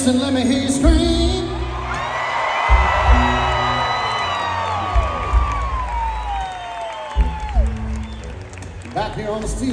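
A large concert crowd at a show screams and cheers loudly, with a sustained roar of shouting and whoops that swells and holds, mixed with amplified voices.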